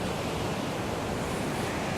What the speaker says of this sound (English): Just hearing the waves.